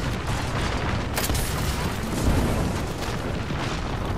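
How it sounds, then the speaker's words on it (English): Continuous dense rumbling booms from an airstrike in the battle royale game Apex Legends, a steady barrage of blasts with one louder swell near the end and no clear talk. "My airstrike just came in"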